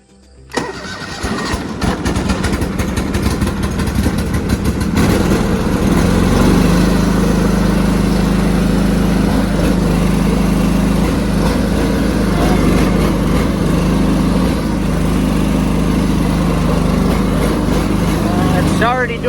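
A John Deere 425 lawn tractor engine, fitted with new ignition coils, starts and runs steadily and loudly at close range, its continuous chugging drone holding for the whole stretch.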